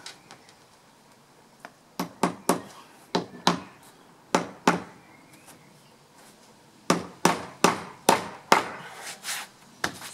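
Hammer blows driving nails into a wooden board for a chicken coop, sharp separate strikes in irregular clusters, some quick doubles, with short pauses and a quiet gap in the middle; no talking.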